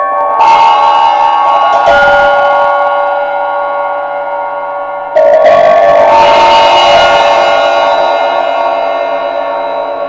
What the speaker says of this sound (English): So those are some discontinued heavy type bells from Paiste.